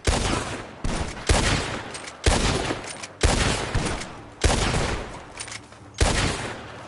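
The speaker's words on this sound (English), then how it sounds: "Gunshots are coming from that barn!" Gunfire in the Western video game Red Dead Redemption 2: seven loud, sharp shots spaced about a second apart, each with a long echoing tail, heard alone without talk.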